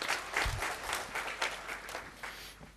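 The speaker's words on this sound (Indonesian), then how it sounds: "Tepuk tangan untuk kebenaran ini" A church congregation claps during a sermon, a soft, fairly distant patter of many hands that rises a little and then slowly thins out.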